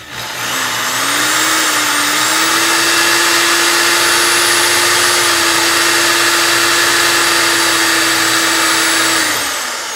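A power drill with a small bit bores out a rivet in a car's floorboard, giving a loud, close, continuous high whine that holds steady for about nine seconds before winding down.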